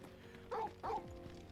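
Torgal the dog in Final Fantasy 16 gives two short, close barks about a third of a second apart over a low background game hum.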